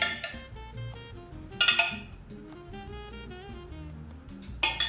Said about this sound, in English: let's take a little bit more of this delicious marinade and just scoop it right on the top